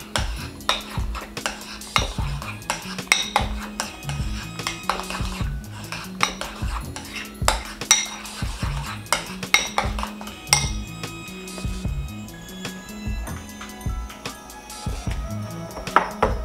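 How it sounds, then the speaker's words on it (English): Red wine being stirred into a sauce mixture for a fish sandwich: repeated metallic clinks and scrapes of a spoon against a pot, steady and close, with a faint sizzle beneath and no talk. "Give that a little mix."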